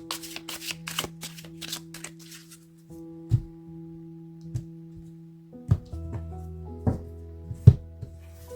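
Playing cards being shuffled for a fortune-telling draw, a quick riffle burst at the start followed by a few sharp isolated card snaps and taps against a steady faint tonal hum in the background.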